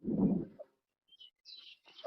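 After a brief low thump, a bird gives a few short, high chirps in quick succession against otherwise quiet surroundings.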